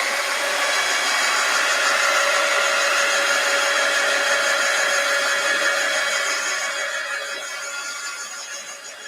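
Hair dryer blowing continuously at close range over a freshly painted art piece, a loud steady whooshing whine that tapers off slightly toward the end.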